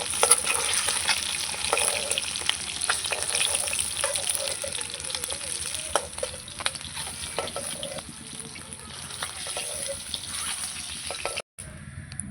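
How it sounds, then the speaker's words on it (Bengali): Duck eggs frying in hot oil in a pan, a steady soft sizzle with faint crackles running throughout and cutting out briefly near the end. "ডিমগুলো ভাজা হয়ে গেছে এবার তুলে নেব"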